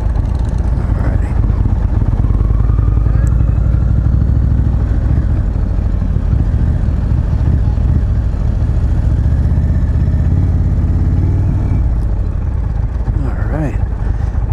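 An Indian Chieftain Darkhorse 116 motorcycle engine rumbles loud and close in sport mode on a test ride, a deep, lumpy throb under wind rush, with a rider talking at times.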